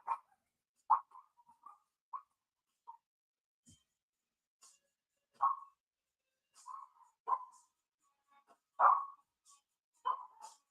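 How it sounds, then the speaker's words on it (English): A pet dog barks indoors in scattered bursts, single and double barks with a few short yips, moderately near and spaced by pauses; no talk over it. "I don't know why he's barking for."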